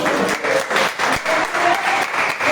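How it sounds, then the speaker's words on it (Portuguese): A church congregation applauding in praise, loud and steady dense clapping from a crowd that carries on throughout, with faint voices and cheers mixed in beneath the claps. "Você pode aplaudir o Senhor por essa palavra?"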